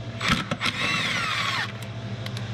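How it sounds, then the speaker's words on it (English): A 13 mm power tool removes a bolt during a diffuser install on a Durango SRT, giving a short burst of whirring that rises and falls in pitch, between brief knocks and clicks, fairly faint and with no talking. "So with a 13 millimeter, you're gonna remove the bolt."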